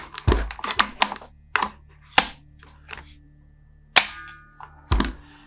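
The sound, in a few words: airsoft gun shot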